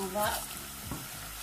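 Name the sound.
stirring sugar and water for caramel in a pan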